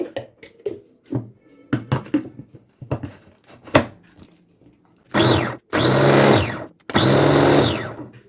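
An electric kitchen chopper runs as it minces coriander leaves: first a scattering of clicks and clatter as it is handled, then three loud, steady whirring bursts of the motor, each lasting about a second.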